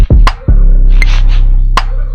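Drum group loop exported to audio in Maschine: punchy electronic kicks, a couple of sharp snare or clap hits and a sustained deep low-end tone, loud and close.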